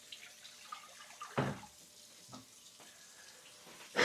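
Fresh water running from a tap into a sink in short bursts, with soft splashes and a louder gush partway through, close and fairly quiet.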